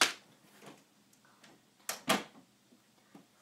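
Doors open in the video game Five Nights at FatBears, heard as a few separate faint mechanical clunks and swishes over a quiet background, with the two loudest coming close together near the middle.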